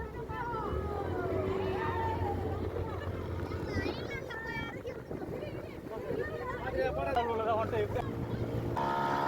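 Boat motoring out on the open sea toward a small island, a steady engine drone and water rush beneath people talking and chattering aboard throughout.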